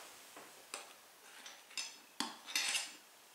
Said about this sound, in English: I measure out the flour in my measuring cup, and then I scrape off the excess with a knife